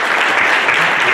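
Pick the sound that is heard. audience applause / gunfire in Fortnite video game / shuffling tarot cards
audience applause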